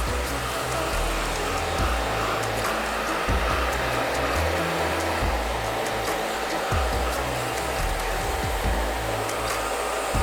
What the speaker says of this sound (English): I'm going to use the diffuser to start off with on a low speed and medium heat.